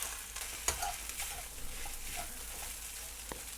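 Egg fried rice being stir-fried and smashed with a soup ladle in a hot pan: a steady sizzle broken by a few sharp metallic scrapes and knocks of the ladle.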